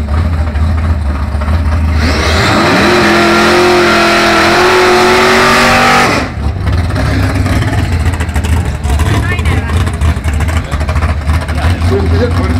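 Two muscle cars, a Plymouth Duster and a 1973 Chevrolet Chevelle Malibu, launch on a quarter-mile drag strip with a loud, rising engine roar lasting about four seconds. It then cuts away to crowd noise and an announcer talking.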